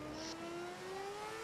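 A Formula 1 car engine in F1 2011 at Abu Dhabi, a steady high whine slowly rising in pitch as the car eases through a lap, heard alone.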